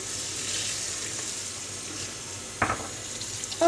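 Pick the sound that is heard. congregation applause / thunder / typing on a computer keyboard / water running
water running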